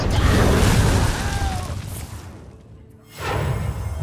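Dragonfire Potion card in Hearthstone, a loud whooshing fiery burst that sweeps and rumbles before fading to near silence, followed by a second swell of crackling impact.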